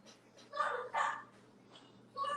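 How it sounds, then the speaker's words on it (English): A dog barks in a few short, fairly faint yips and woofs, two close together followed by a pause and another bark. "That's your dog?"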